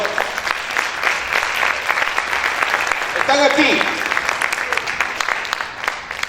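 A church congregation applauds loudly and steadily, a dense wash of many hands clapping throughout, with a brief spoken voice cutting in near the middle.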